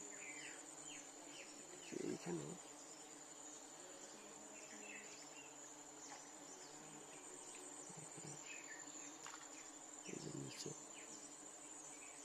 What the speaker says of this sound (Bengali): প্রত্যেকটা ফুলে কিন্তু মৌমাছি বসতেছে।